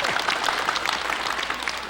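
An audience claps steadily at a ceremony honoring an elderly couple, a full, continuous wash of applause that holds loud and fades only slightly at the end.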